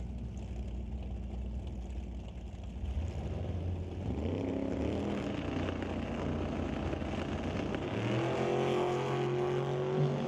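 At a drag strip, a dragster and a Chevy 2 launch side by side, engines rumbling at idle before surging into loud, rising revs, then a second hard acceleration roars up near the end, with no voices.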